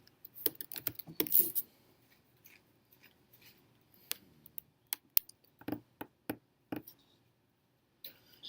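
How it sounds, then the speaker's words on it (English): Computer keyboard typing, a sparse run of light close clicks and taps, irregular and quiet, with near silence between keystrokes. "just type in flower."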